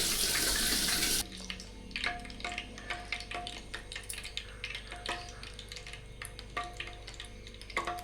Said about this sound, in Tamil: நான் வந்து ஆயில் பொறிக்கிறேன் இப்போ பாருங்கள்